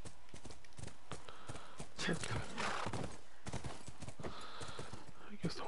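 A horse's hooves clatter in The Last of Us, a busy irregular run of hoofbeats mixed with other game sounds and some voice activity.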